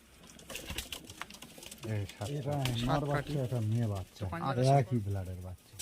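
Pigeons coo in a loft of high-flying and spotted fancy pigeons, with several rolling, repeated coos close by. Someone talks over them.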